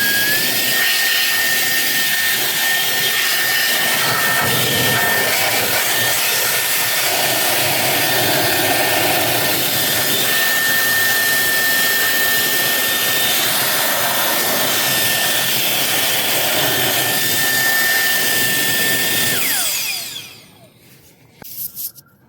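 A MECO ELEVERDE CA2 electric air duster runs at level 4, giving a steady, loud, close blast of whooshing air with a high whine. It holds for about twenty seconds, then cuts off and winds down.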